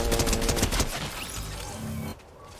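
Rapid bursts of automatic gunfire in the Fortnite video game, a dense volley of shots for about two seconds that then stops abruptly, leaving quieter game ambience.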